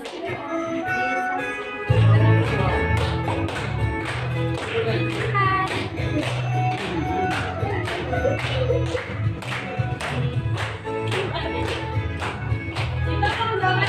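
Children clapping their hands in an elementary classroom, rhythmic, evenly spaced claps keeping a steady beat while voices sing or chant along.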